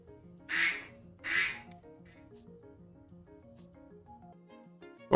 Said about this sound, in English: She set my phone to quack when she calls